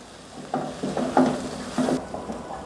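A spoon stirs dried fish with ground cumin, coriander and turmeric in a hot pan, giving repeated close scraping strokes over a soft, steady sizzle.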